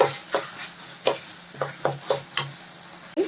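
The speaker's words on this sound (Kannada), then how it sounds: "ಒಂದು ಟೂ ಮಿನಿಟ್ಸು ಇದನ್ನು ಫ್ರೈ ಮಾಡ್ಕೋಬೇಕು" Soya chunks manchurian fry in a pan while a spatula taps and stirs in a steady series of sharp knocks over a faint sizzle, close by and with no voices.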